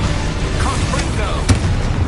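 A Confringo spell blast goes off in a wizard video game, a dense booming burst that fills the clip, with a voice calling out over the noise.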